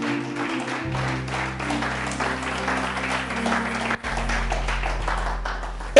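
A church congregation claps and cheers during a sermon, dense sustained applause at moderate volume mixed with a low droning tone and crowd noise, briefly dipping near the end before continuing.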